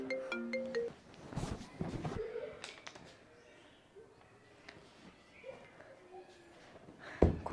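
A mobile phone ringtone repeats unanswered, with short melodic tones at the start, amid room noise and occasional thumps and voices in the background.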